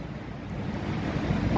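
A strong river current rushing in a steady, heavy roar, loud and close, with no voices.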